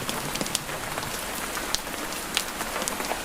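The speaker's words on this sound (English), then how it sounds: "the last of the rain falling gently" Rain falls gently on a cottage in Scotland, a steady close hiss of patter with scattered brighter drop ticks and no voices.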